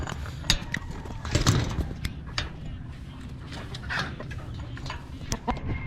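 Ducks being fed on a provincial farm in Bataan give scattered clucking and quacking calls at close range, mixed with rustling and occasional knocks, with a person speaking briefly.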